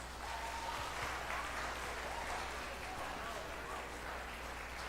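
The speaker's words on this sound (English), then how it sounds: "we would like for you to join us in giving your parents a round of" Elementary school graduation audience applauding the parents, a steady, fairly faint wash of many hands clapping in a large room, continuous throughout.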